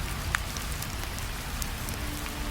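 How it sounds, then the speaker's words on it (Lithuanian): Steady close patter of rain falling on a roof and closed window shutters at night, with occasional sharper drops ticking above a continuous dense wash. "lietus sau krenta ant miško, ant takelio, ant stogo, ant užvertų langinių"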